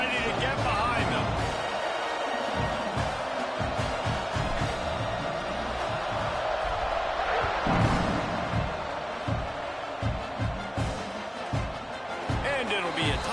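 A stadium crowd roars steadily at a college football kickoff, Mississippi State at Oklahoma, a dense wash of cheering that runs the whole time beneath an announcer's continuous commentary.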